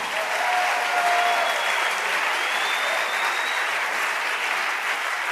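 Inside a church, a congregation applauds and cheers loudly and continuously in a thick, sustained roar of clapping, with a faint whistle-like tone sliding through briefly.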